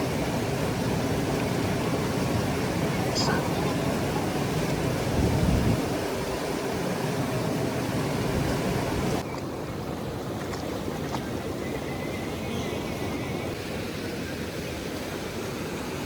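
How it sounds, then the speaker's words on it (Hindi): The glacier-fed Bhagirathi river rushes at Gangotri, a steady, dense roar of flowing water that fills the whole stretch without any voices. "यह है भागीरथी नदी और इसका उद्गम स्थल है गौमुख से।"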